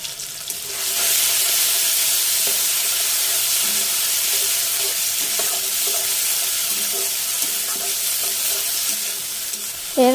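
Cumin paste with slit green chillies and dried chilli paste frying in a pan for a village-style aar fish curry makes a loud, continuous sizzle with occasional stirring scrapes and no voices.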